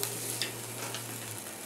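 Dry-aged wagyu striploin, cooked sous vide beforehand, searing in a hot pan with a steady close sizzle and a low hum throughout, no voices.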